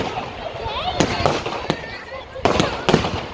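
Fireworks display at St James in the City, Liverpool, with repeated sharp explosive bursts and crackling around a dozen shells firing together, loud and close, with a voice talking over the bangs.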